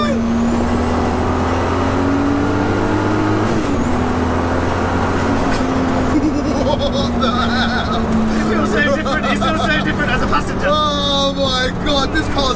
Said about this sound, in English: This car's alive, bro. The character that it has is insane. This is insane. Just the sound, listen.